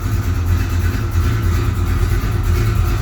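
A 1987 Chevrolet S10 pickup fitted with a V8 pulls out of a garage under its own power. Its engine gives a loud, steady, close rumble without pause.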